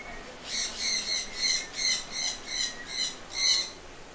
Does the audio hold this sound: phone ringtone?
no